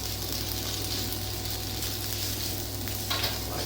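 Noodles being stirred into bacon in a hot frying pan give a steady, close sizzle with soft scraping and stirring throughout, with no talking.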